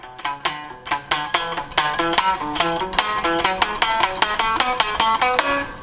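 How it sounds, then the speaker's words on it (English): An unplugged electric guitar with no amplifier plays a rapid scale sequence of steadily picked single notes, bright and even in rhythm, heard alone without talk. "So if you're playing a scale sequence, it might sound something like this."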